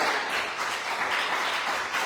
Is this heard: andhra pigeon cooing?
no